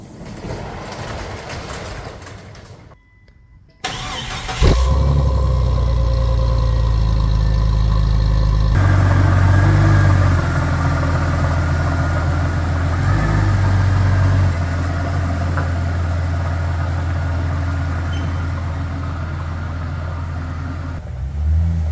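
A Jeep engine idles and rumbles steadily close by while the vehicle is driven and parked, with a loud low drone that shifts slightly as it moves, after a brief quieter start.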